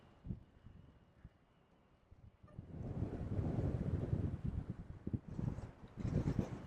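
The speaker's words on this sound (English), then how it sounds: "you could really hear the wind" Strong headwind buffets the microphone on a trike ride along the Virgin River bike path in St George, Utah, a loud, continuous rushing roar that builds and surges in gusts after a quieter start.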